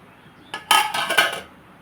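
A lid set onto a cooking pot of rasam on the stove: a short burst of metallic clanks and rattles about one second long, close and fairly loud, with no talking.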